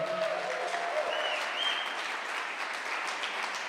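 Applause from a congregation during a Spanish-language evening Bible study at church, a steady wash of clapping with faint voices and brief cheers over it, moderately distant.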